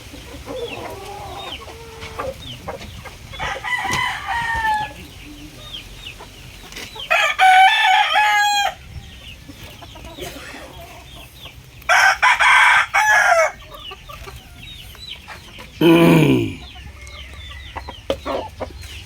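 A pure Melson Black gamefowl rooster crows loudly and close, four long crows spaced several seconds apart, with softer clucks and chirps from other fowl between them.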